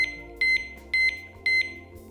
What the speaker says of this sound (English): When arming the lock, the key is turned to the on position and beeps 6 times